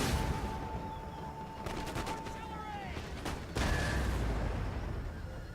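Distant volleys of gunfire and cannon in an Empire: Total War battle, faint crackling bursts under a low battlefield rumble, with someone talking over it.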